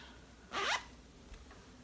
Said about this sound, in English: And then here's your zipper.